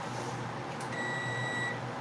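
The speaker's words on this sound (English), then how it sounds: "Turn the timer off." A kitchen timer during cake baking gives a steady electronic beep, sounding alone for about a second over faint room noise.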